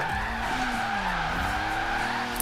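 A stock BMW E46 sliding sideways in a drift, its engine droning steadily beneath a continuous, loud screech of skidding tires.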